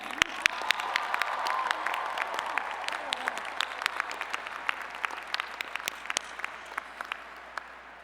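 A large outdoor commencement crowd applauds a jazz band, a soft, distant wash of clapping with sharper individual claps popping out, slowly thinning toward the end.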